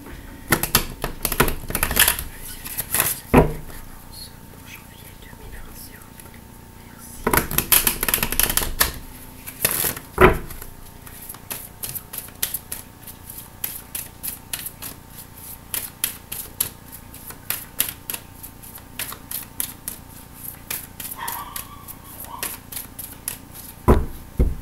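A deck of tarot cards is shuffled and cut in clattering, flicking bursts throughout, with dense riffling near the start and again around the middle, heard close alongside intermittent speech.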